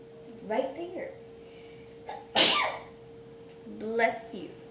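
A person sneezes once in a home kitchen, a sharp burst between quiet spoken voices, with a faint steady hum in the background.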